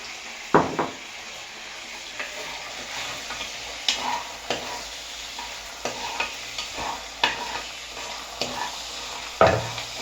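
Korean fried chicken being stirred in a pan, a faint sizzle broken by a dozen or so distinct spatula scrapes and knocks against the pan at irregular intervals, close and clear.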